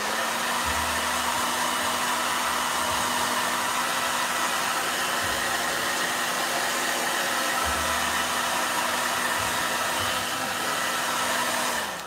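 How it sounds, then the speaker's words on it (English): A blow dryer runs steadily at close range, producing a constant loud whoosh with a hum beneath it throughout, with no voices. "Yeah. Blow dryer."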